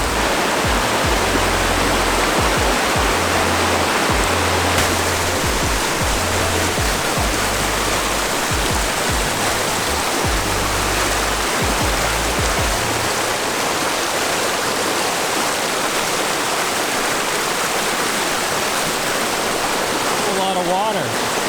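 A river stream along a North Cascades trail rushes continuously in a loud, dense hiss of flowing water, with a low intermittent rumble underneath early on and no voices heard.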